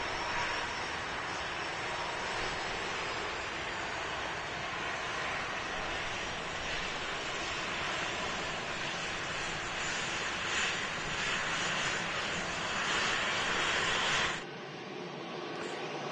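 A Brussels Airlines jet arrives on runway 23R at Manchester Airport, producing a steady, broad roar at moderate distance that holds level throughout and then drops off abruptly at the end.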